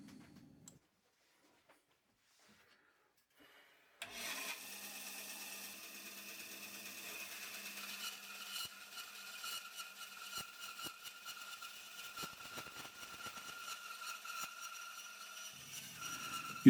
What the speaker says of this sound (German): Und dann kann es auch schon losgehen mit dem Sägen.